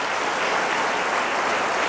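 A short burst of strong, dense applause from a church congregation praising the Lord during a Portuguese-language religious programme, even and unbroken for its brief length.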